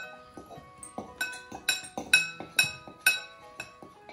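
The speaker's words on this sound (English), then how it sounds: "you're gonna take the fork and you're gonna vigorously whisk it for 60 to 90 seconds" A fork whisked vigorously in a glass, giving bright ringing clinks in a quick steady rhythm of about two strikes per second, close and clear with no talking.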